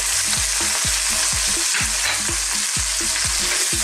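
Squid is stir-fried for a Thai coconut seafood dish, a loud continuous sizzle with quick regular scrapes of the spatula against the pan about three times a second, no voices.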